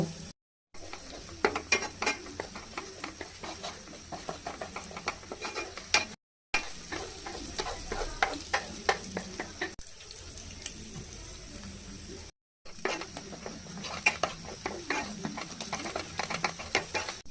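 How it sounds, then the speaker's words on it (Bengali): Beaten eggs frying in a pan for chicken chow mein, a quiet low sizzle broken by repeated spatula scrapes and taps, close by, in separate stretches with brief silent gaps and no talk. "এখন ডিমগুলো ভেজে নিব"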